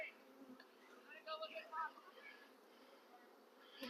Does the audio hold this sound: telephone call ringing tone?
no